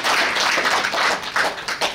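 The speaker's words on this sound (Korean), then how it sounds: "여러분 뜨거운 박수 부탁드립니다" Crowd clapping at a Democratic Party election rally in Suncheon, South Korea, a dense, steady patter of many hands filling a short stretch without pause, with no voices over it.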